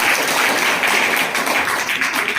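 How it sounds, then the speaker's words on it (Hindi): Children applaud to welcome guests at a school camp event, a dense, steady burst of many hands clapping together, loud and close, with no talking over it. "बच्चों ने आपके लिए जो तालियां बजाई है"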